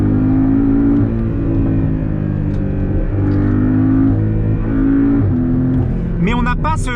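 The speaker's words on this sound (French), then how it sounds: "c'est quand même un moteur qui prend ses tours" A Porsche 718 Cayman with a four-cylinder engine runs steadily and close in sequential mode, revving and pulling through the gears, with a brief higher whine near the end.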